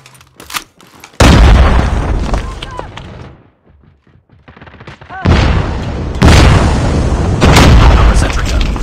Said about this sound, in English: Our sentry gun has been destroyed.